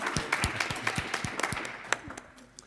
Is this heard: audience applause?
yes